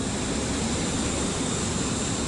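Steady, loud broadband roar of a large airliner at Antalya airport, continuous and unbroken, like engine or cabin noise heard from close by with no talk over it.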